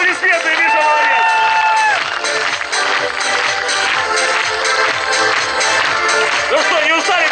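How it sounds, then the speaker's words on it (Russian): A crowd at a KVN comedy show applauds in a loud, dense, continuous wash of clapping and cheering, with voices and babble mixed through it. "Под ваши бурные аплодисменты"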